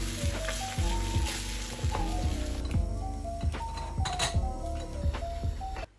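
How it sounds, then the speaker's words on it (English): Eggs being scrambled in a preheated, well-oiled pan for Japanese omurice, a steady sizzle broken by repeated scraping and light metallic clinks of the utensil against the pan. "Scramble the eggs outside to inside."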